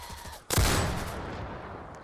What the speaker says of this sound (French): En plus, c'est un sniper à rafale.